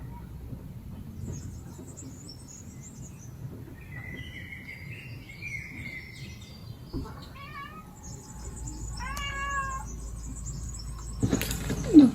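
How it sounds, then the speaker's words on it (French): Small birds chirp and twitter in short high bursts, scattered across a quiet outdoor background with a low rumble. "Il y a les petits oiseaux qui volent. On peut même les entendre."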